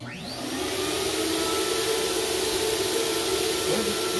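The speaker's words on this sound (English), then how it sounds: "Okay, so that's the turbine." An air turbine across the room blows air through a hose, spinning up with a rising whine and then holding a loud, steady, broadband roar with a constant tonal hum, and no talking.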